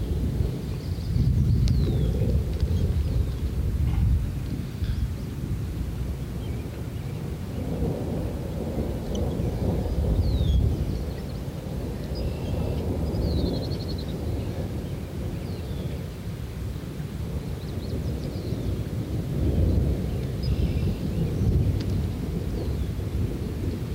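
Thunder rumbles repeatedly during a thunderstorm on a sailing trip near the Isle of Shoals, with low, rolling peaks over a steady wash of rain and wind for the whole stretch.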